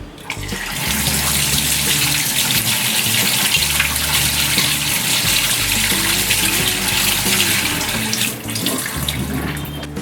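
A kitchen tap runs water steadily while a kitchen item is rinsed, a loud, close, continuous gush with small splashing changes as the object moves under the stream, easing off near the end; no talking.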